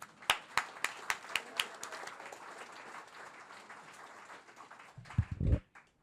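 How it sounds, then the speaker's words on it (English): Audience at a comedy show at Horizon House applauding as a comedian is introduced: a few sharp early claps swell into steady moderate applause, then a brief low rumble of noise as it dies away. "Please give a warm round of applause for Ariel Ehrlich"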